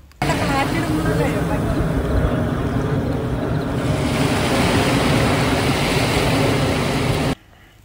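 Sea waves wash steadily onto a beach in Muscat, a loud, continuous surf roar with strong wind buffeting the microphone throughout.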